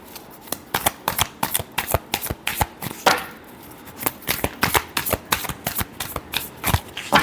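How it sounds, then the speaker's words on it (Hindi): A deck of tarot cards is shuffled by hand in quick, repeated riffles and slaps, close and crisp, with a short pause midway before the rhythmic shuffling resumes. "Last shuffle."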